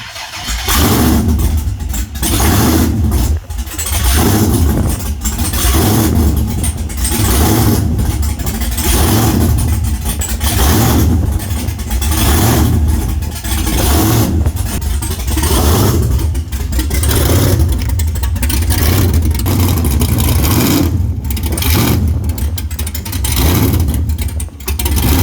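A car engine runs steadily through a test drive, with repeated rev swells and pulses over a constant loud drone, while a possible vacuum leak is being diagnosed.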